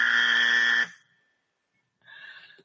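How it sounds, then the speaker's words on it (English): A loud, harsh wrong-answer buzzer sounds for just under a second, then cuts out to silence; a fainter electronic tone follows near the end. "really don't want to do this, but Nick, I have to give them the wrong buzzer."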